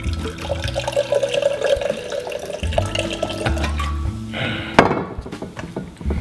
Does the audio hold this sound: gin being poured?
yes